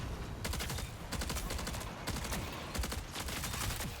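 Rapid bursts of shotgun fire in the video game Marathon, loud and close, coming in three sustained volleys with short gaps between them.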